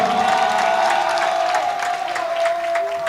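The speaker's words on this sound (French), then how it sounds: "Applaudissez pour la boquille" Audience at a hip hop concert finale applauding and cheering, a dense continuous wash of clapping with crowd voices, loud and sustained, with a held tone running underneath.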